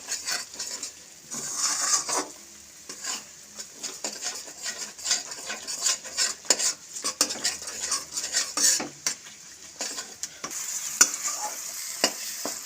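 A spoon stirs cashew, melon seed and poppy seed paste into a sizzling masala in a pan for fish rezala, with repeated scraping and clinking strokes over a faint background sizzle.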